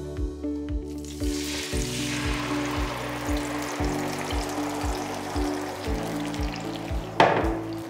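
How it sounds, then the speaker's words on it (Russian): Tomatoes poured into a frying pan of hot olive oil infused with garlic, giving a steady sizzle and bubbling frying sound, close and continuous, with a brief sharper clatter near the end. "наливаю в сковородку томаты,"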